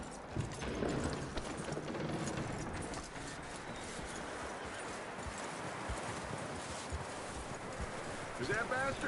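Horse hooves clip-clop in Red Dead Redemption 2, a steady walking rhythm of muffled hoofbeats with occasional tack and gear rattles, continuing at moderate level throughout under a voice talking.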